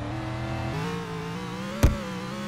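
A game car's engine revs steadily at a constant pitch, then shifts slightly lower, with a brief sharp knock or thump near the end; no talking.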